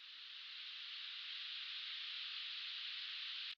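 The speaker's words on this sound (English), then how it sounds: "we've also got some more white noise stacks." A steady wash of bright white noise layered in a mid-tempo future bass track holds evenly for a few seconds, then cuts off abruptly.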